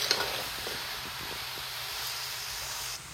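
Bottle gourd sizzling and hissing in an oil-filled wok while being stirred, a steady frying hiss with soft scraping strokes close by, then cutting off near the end.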